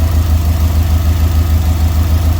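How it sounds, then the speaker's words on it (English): A tuned car with an aftermarket turbo inlet idles steadily, a loud, close, even low rumble with a smooth pulsing throb and no other sounds. "Car just sounds so good right now."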